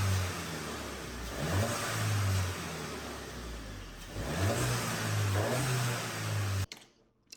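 Engine of a 2021 Volkswagen Jetta GLI on its stock intake, revving hard in repeated rising and falling pulls that sound near and loud, then cutting off abruptly at the end.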